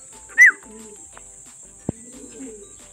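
A racing pigeon returning to its loft in the morning gives a short coo, with a sharp chirp before it and a single soft thump later, quiet surroundings otherwise.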